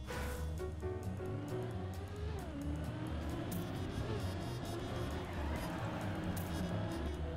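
A car engine in the Trackmania racing game drones loudly and continuously, pitch rising and falling as it accelerates and drives through the track.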